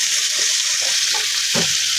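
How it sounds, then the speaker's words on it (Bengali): Onions fry in a pan with a steady, bright sizzle, broken by a few soft stirring knocks and scrapes. "এই যে পেঁয়াজটা একটু ভেজে নিই"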